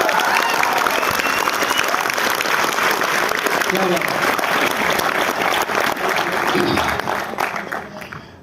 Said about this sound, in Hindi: तो एक बार अपने लिए तालियां बजाओ सबसे पहले जोर से।